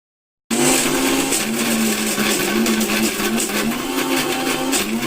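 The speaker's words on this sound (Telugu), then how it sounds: "మిక్సీ పడుతున్నాను అనమాట" A kitchen mixer grinder blends carrot chutney, cutting in abruptly with a loud, steady, close whirring drone that holds without a break to the end.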